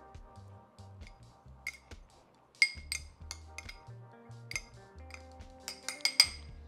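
A spoon stirs salsa in a bowl, bringing quiet scraping and soft knocks followed by a string of sharper metallic clinks against the bowl that come irregularly and get busier toward the end, fairly close with no talking.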